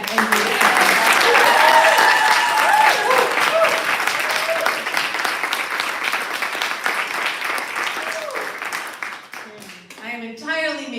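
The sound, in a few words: audience applause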